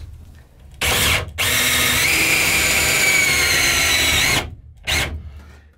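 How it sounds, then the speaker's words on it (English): Power drill boring a pocket hole through a wood spacer while rebuilding the floor of a 1973 Rancho El Rae truck camper: a brief whir, then a sustained loud grinding drill run, and a short final burst. "So the drill bit, go about like this."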